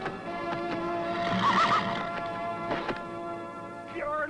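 A horse gives a loud, close whinny over steady clip-clopping hooves and thumps in an outdoor Western scene, with voices talking nearby.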